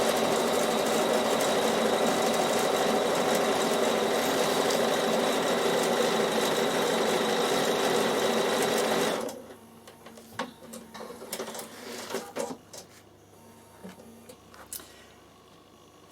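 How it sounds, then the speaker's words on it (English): A Bernina sewing machine stitches in a steady, fast mechanical whir for about nine seconds, then stops, leaving quiet handling clicks and rustles. "So now I'm just going to stitch that stitch so you understand what stitch it is"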